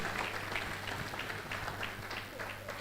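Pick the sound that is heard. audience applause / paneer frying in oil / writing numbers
audience applause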